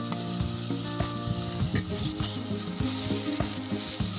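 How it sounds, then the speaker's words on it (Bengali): Sponge gourd slices frying in oil in a pan, a steady close sizzle with scattered spatter pops and the clink of a utensil, no talk. "এই যে একেবারে কুন্দলটা কিন্তু ভাজা ভাজা হয়ে গেছে একদম তেল ভেসে উঠেছে"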